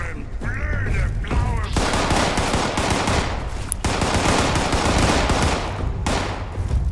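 Nonstop automatic gunfire in a Fallout 76 co-op firefight, with rapid bursts of shots hammering almost without pause, loud and close, broken only by brief gaps.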